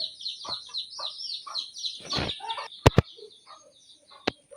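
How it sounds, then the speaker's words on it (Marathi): Chicks peep in high, rapid chirps nearby among chickens while wings flap and a couple of sharp knocks ring out. "कितके सारे कोंबडे तिथे पिल्लं पण आहे तिथे"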